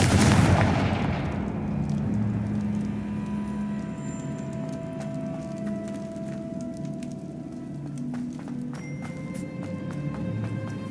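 A Confringo fire spell in Hogwarts Legacy lets off a sharp, loud blast at the start, and a long rumbling decay follows over a faint game ambience with scattered small clicks.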